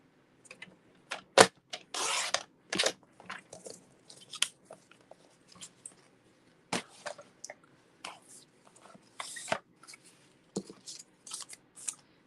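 Scissors cutting through card stock from corner to corner at a crafting table, giving a run of close, crisp snipping and slicing strokes in irregular bursts with quiet pauses between.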